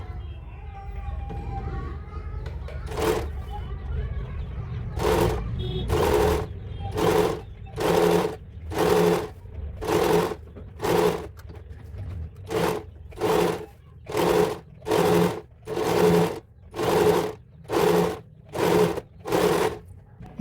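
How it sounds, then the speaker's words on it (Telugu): An Usha Janome sewing machine stitches a saree fall along the folded edge in about fifteen short, evenly spaced bursts of rapid, close mechanical whirring. A voice speaks briefly before the stitching starts. "లాస్ట్ ఎడ్జ్ వరకు కూడా అలానే ఫోల్డింగ్ చేసుకుంటూ స్టిచ్ వేసుకోవాలి స్లోగా"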